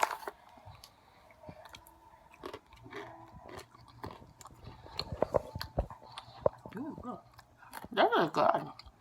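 Crunchy honey barbecue snack mix with little pretzels being chewed close up, irregular crisp crunches and mouth clicks growing louder toward the end, with a few quiet voice sounds in between.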